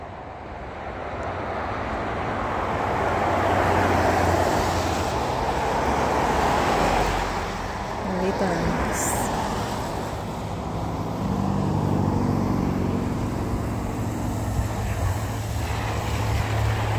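A city transit bus rolls through downtown, steady engine and road roar swelling and easing inside the cabin, with a brief high squeal partway through.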